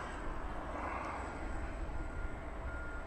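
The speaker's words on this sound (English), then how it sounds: "you probably noticed when that aircraft just taxied out" An aircraft taxiing out toward runway 09 at East Midlands Airport gives a steady, broad engine roar at moderate distance, holding evenly throughout with no voices.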